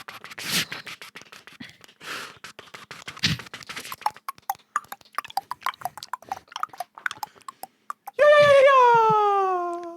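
After a stretch of scratchy rustling, a voice lets out a loud, wavering neigh that imitates a horse, falling in pitch as it fades.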